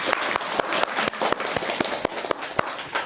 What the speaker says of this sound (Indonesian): Kita tepuk tangan dong, keren banget